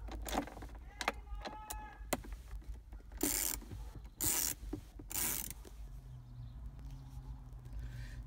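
Ratchet loosening 7mm bolts from the center console of a 2011-2015 Chevy Volt, heard as close, quiet bursts of rapid clicking separated by short pauses, with a few louder broadband rustles and handling noises in between.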